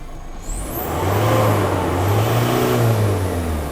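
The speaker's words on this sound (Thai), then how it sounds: "สำหรับเวลาการเร่งเครื่องอยู่กับที่" A car engine revs up from rest and holds at high pitch in a smoke-reduction tuning mode, the revving loud and close, rising and falling slightly without any movement.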